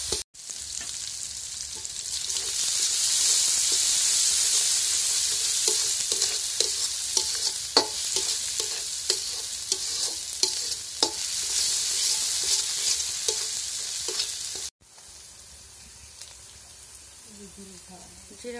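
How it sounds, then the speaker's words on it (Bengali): Chili and turmeric powder sizzle in hot oil while a spoon stirs them steadily, a loud continuous frying hiss with scraping strokes that cuts off abruptly near the end, leaving a quieter sizzle. "মরিচের গুঁড়া, হলুদের গুঁড়া, সবকিছু ভালো করে একটু ভেজে নেবে।"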